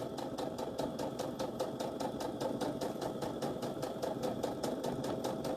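A sewing machine stitches through many thick layers of fabric for a casserole carrier, its needle hammering in a fast, even rhythm with a steady motor hum, close and alone.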